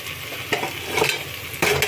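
Prawns and mixed vegetables fry in a pan with a steady sizzle, broken by a few sharp scrapes and clacks of stirring, close and alone.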